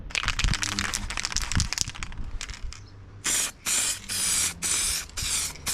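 Aerosol spray paint applied to Nissan Micra K11 valve covers outdoors, several loud hissing bursts of a second or so each, following softer handling and rattling noises close by.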